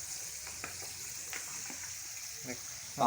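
Battered tofu and other crispy snacks frying in hot oil during a cooking class, a faint steady sizzle with small crackles and occasional clinks, a louder burst at the end.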